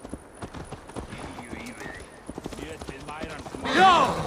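Clip-clop of a horse's hooves being ridden in Assassin's Creed Valhalla, a steady run of hoofbeats under voices talking, then a loud burst of noise at the end.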